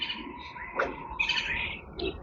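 Thin, high bird calls and chirps sound at a middle distance by a riverbank over steady outdoor background noise, with a few short bursts and no talking.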